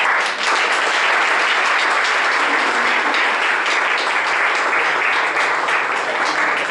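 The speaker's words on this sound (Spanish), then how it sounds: "Un aplauso por favor para el padre." Sustained audience applause for a priest fills the room, dense and steady clapping from a crowd that carries on loudly and evenly for several seconds without a break.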